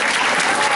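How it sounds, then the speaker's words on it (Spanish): Brief burst of steady, dense clapping from a group of teachers at a summer school workshop, loud and continuous. "Bueno, un aplauso."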